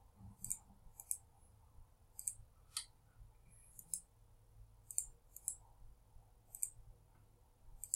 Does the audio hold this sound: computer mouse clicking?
yes